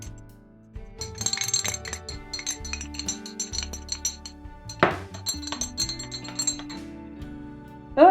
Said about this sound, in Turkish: İyice karıştırıyoruz.